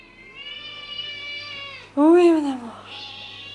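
A house cat meows indoors: a long drawn-out whine is followed by a louder, sharper meow close by. Someone speaks softly over the start.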